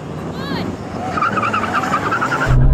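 Porsche 911 Turbos, including a 993, launching hard in a drag race with a brief tire squeal, engines roaring and building as they pull away, loud and close.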